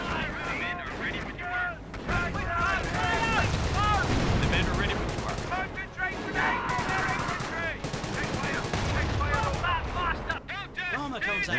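Battle gunfire in Company of Heroes during a WWII Caen campaign: dense continuous rifle and machine-gun bursts with heavy artillery-like booms, loud and sustained throughout, with soldier voices shouting over the din.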